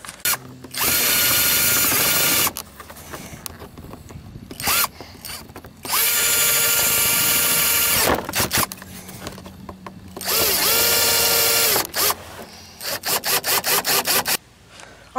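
A power drill drills out the rest of a truck door panel, working on the panel for a custom door build. It whines loudly in several long runs separated by pauses, then ends in a string of short rapid bursts, close up.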